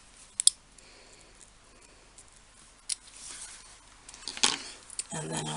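Scissors trimming laminated paper for a handmade notebook, with a few faint, sharp snips spaced apart over quiet handling noise.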